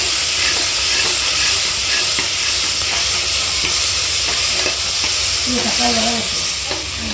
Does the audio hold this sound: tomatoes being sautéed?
yes